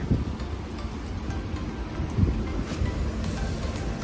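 Steady rain hisses down in a dense, even wash of noise, with occasional heavier splashes and no voices.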